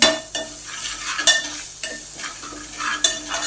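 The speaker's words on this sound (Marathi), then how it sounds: "चवीनुसार मीठ आणि तीळ हे सगळं एकत्रित करून घेऊया" Kothimbir vadi ingredients, including salt, chili powder, coriander powder and sesame seeds, are stirred together in a bowl, producing repeated scraping and stirring strokes at a fairly loud, close level with no talking.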